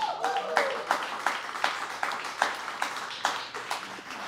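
Applause at a bar interview show for a vallenato singer, a small group clapping in loose, uneven bursts with a speaker's voice over the top.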